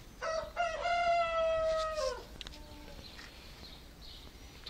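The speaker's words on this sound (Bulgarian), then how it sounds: "Тук отстрани се чува петела." A rooster in a rural garden crows once, loud and close, a long rising-falling call lasting about two seconds, followed by quieter outdoor ambience and a faint distant call.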